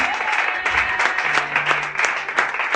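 A church congregation claps steadily in worship, a dense, continuous applause with crisp overlapping hand claps and no voices standing out.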